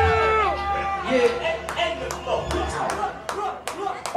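Concert crowd at a hip-hop show in a lounge, clapping and cheering in a dense, noisy mass, with sharp claps over a roar of voices and chatter throughout.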